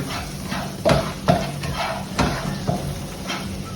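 Whole spices for a pilaf-style spiced rice sizzle in a pan while being stirred, with a constant fry hiss broken by several soft scraping strokes at an uneven pace.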